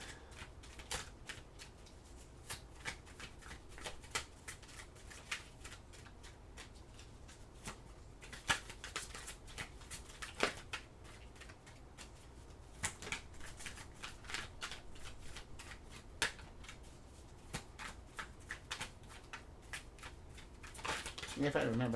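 Tarot cards being shuffled and handled, with scattered soft flicks and taps of card stock over a steady low room background, faint and close.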